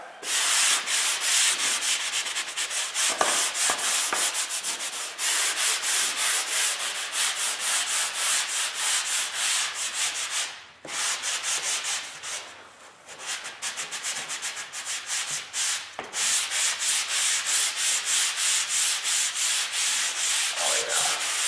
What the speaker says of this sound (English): We just want to sand those out so it's pretty flat.